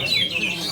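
A green leafbird (Cucak Ijo) singing at a bird contest in Gandusari, Trenggalek, a brief run of bright, warbling chirps that sits close and clear over low background murmur.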